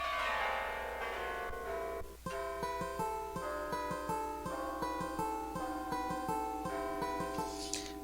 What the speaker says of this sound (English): we want it to be in the deeper zone of the bells, because that's when they really sound more grand, more larger and heavier